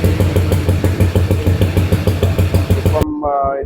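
AJS or Matchless classic British single-cylinder motorcycle engine running after a single kick start, a loud, steady thumping idle with an even beat close by, cut off abruptly at the end.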